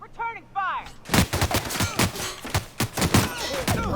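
Gunfire in The Outer Worlds video game, a dense burst of loud, rapid shots and thumping blasts following a short stretch of ringing electronic tones, close and sustained with no speech.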